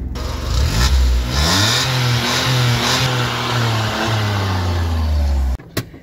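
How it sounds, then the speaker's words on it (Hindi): A used car's engine revs hard as the accelerator is pressed, rising and dipping in several loud, close surges before cutting off abruptly near the end. "गाड़ी में एक्सीलेटर दें"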